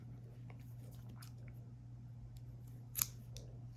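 Scissors snip a short length of yarn, a soft close cut that ends in one sharper snip near the end, quiet over a low background hum, with no one speaking.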